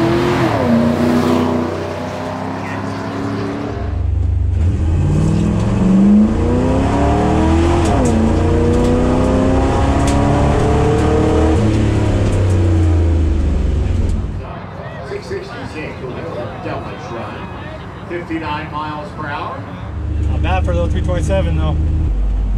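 A 1962 Chevrolet Biscayne with a 327 engine on a drag strip run, its engine loud and near, revving up through rising gear pulls, easing off, then surging again, with people talking over it.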